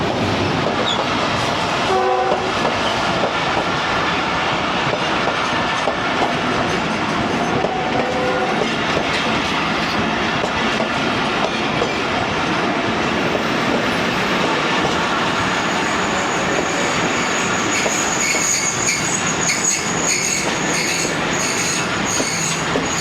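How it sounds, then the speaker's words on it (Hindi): The Fareed Express passenger train pulls into a station with a loud, continuous rumble of rolling wagons, squealing wheels, rhythmic clacking over rail joints and a horn, all close by. "अब फरीद एक्सप्रेस आ गई है"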